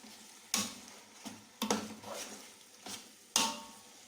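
A spoon stirs raw chicken in a pot for home-style Tamil chicken biryani, giving a few separate scraping, sizzling strokes at an irregular pace, moderately close, with no voices.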